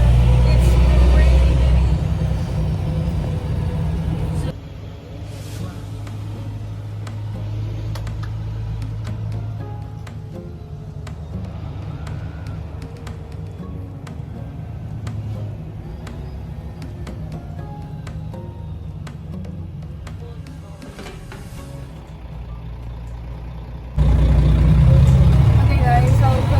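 Steady low engine rumble and road noise from inside a moving free bus on a rainy day, with a louder surge at the start and end; people talk now and then over the drone.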